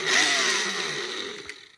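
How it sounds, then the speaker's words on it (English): A Krups coffee grinder spinning up to blend fly-tying dubbing: a high, whirring motor burst that starts loud and close, holds briefly, then winds down with a small click near the end. "Now I'm using a Krups coffee grinder to blend this."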